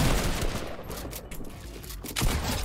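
Gunfire in the Fortnite video game, a loud volley of rapid overlapping shots with sharp cracks and a heavier burst near the end, continuous across the short stretch.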